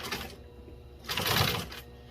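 A commercial automotive upholstery sewing machine fitted with a carpet binder runs two short bursts of stitching at 3 mm stitch length, the second burst louder and longer, close by with no talking.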